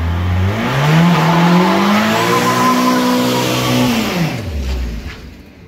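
A Volkswagen Gol Turbo car revs hard through a burnout, its engine pitch climbing and holding loud before dropping away, with tire squeal and skidding noise close by.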